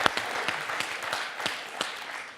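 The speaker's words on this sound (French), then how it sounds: "Alors là, Jérémy, très applaudi." Studio audience applause on a French television quiz show after a correct answer. Quiet, moderately distant clapping with a few distinct claps over a soft wash, heard alone.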